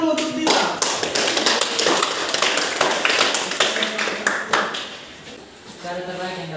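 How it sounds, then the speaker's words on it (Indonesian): A classroom claps for Dita, a student who has just answered a question during a practice teaching lesson. The claps are close and sharply separated, a quick rhythmic patter that fades near the end before a voice begins speaking. "Tepuk tangan dulu untuk Dita"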